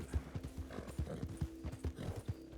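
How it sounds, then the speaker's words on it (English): Horse hooves clip-clopping at a steady riding gait in the video game Red Dead (WildRP), a close rhythmic series of soft thuds with faint breathy snorts alongside. "All I'm doing is riding my horse around."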